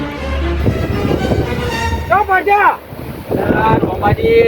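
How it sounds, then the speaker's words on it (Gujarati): Gusting wind roars across the microphone with rumbling buffets, while people talk nearby and a voice rises in a sing-song tone. "વાયરો ખૂબ છે"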